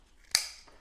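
A single sharp snip of scissors trimming the roots of a dwarf cedar bonsai, close and crisp, with a short ringing tail and quiet around it.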